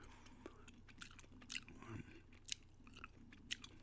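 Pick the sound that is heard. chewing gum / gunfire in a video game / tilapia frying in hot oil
chewing gum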